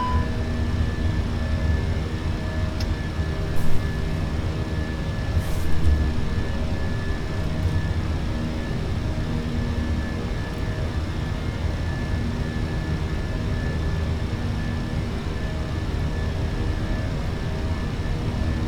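Airliner engines on a British Airways departure from Heathrow toward Munich roar steadily during the climb after takeoff, a loud, constant broadband drone with a low rumble and a couple of brief bumps.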